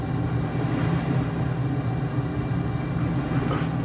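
Steady airplane engine drone from a plane in the Microsoft Flight Simulator video game, a continuous low rumble with a constant hum, loud and unbroken, no talking.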